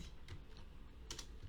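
Someone types Python code on a computer keyboard, a quick run of faint, close key taps with a couple of louder clicks, alone and quiet.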